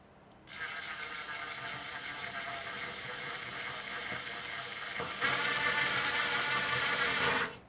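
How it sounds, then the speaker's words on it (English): Power drill driving drywall anchors into a wall, a steady high-pitched whine that starts abruptly, runs several seconds, steps up louder near the end, then cuts off. "I want to see if I can put these in with a drill"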